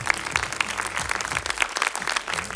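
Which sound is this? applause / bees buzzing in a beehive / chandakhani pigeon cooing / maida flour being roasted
applause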